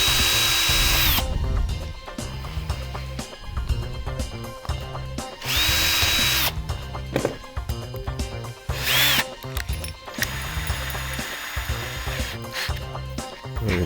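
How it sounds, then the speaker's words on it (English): A power drill bores pilot holes into a piece of wood, with several loud whirring bursts separated by pauses, clicks and handling noise. "drill the 4 holes on this piece of wood where the Lazy Susan is going to go."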